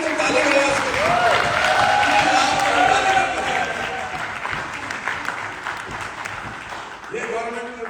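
Audience applause at a third-anniversary celebration of World Wide Dreamers in Pattaya, Bangkok: sustained clapping and crowd noise swell loudly then ease off, with voices talking and calling out over it.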